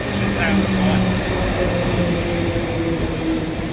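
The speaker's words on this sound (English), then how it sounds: "So now we're heading on our train over to Linz." Steady rumble of a moving train car travelling in Austria toward Linz, with continuous rail and wheel noise, a faint squeal near the start, and brief murmurs of talk underneath.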